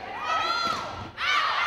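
A school crowd cheers for the Panther mascot Pounce indoors, a short, bright burst of shouting and cheering voices with children's shouts, swelling in two waves.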